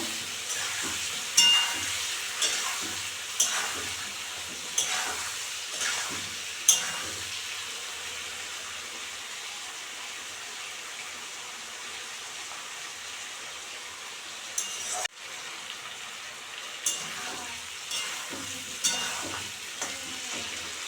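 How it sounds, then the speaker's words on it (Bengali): Green beans, potato and eggplant being stir-fried in a pan with turmeric and salt, giving a continuous hissing sizzle with regular scraping stirs of a spatula, close and alone. "এখন আমি ভালো করে কষাবো"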